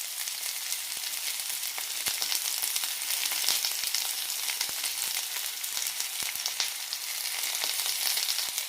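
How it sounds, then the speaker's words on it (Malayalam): Garlic cloves, chopped onion and ginger sizzle steadily in hot oil in a pan while cooking a Karnataka-style coconut chutney, a dense continuous crackle with scattered sharper pops and no voices. "ഇതേ എണ്ണയിലേക്ക് 2 വെളുത്തുള്ളി അല്ലി, സവാള അരിഞ്ഞത്, ഒരു മീഡിയം സൈസ് സവാള എടുത്തിരിക്കുന്നത്"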